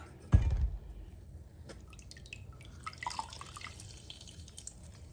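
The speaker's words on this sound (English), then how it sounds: "So we're just gonna squeeze the juice right in here." Juice squeezed by hand into a bowl for cranberry bread pudding, with one wet splash at the start followed by scattered small drips and trickles, close and quiet, with no talk.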